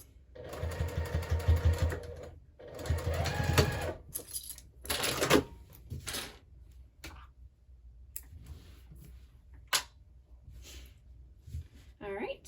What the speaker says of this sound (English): Put my presser foot back down, keep on sewing.